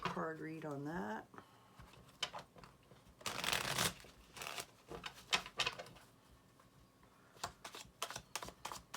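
Tarot cards are shuffled and handled for a reading, giving riffling, flicking and tapping bursts, loudest in the middle, while a voice speaks intermittently over them.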